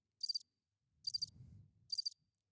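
Three short, bright cricket chirp bursts sound evenly spaced about once per second, clean and isolated against near silence, with a faint low rumble in the middle.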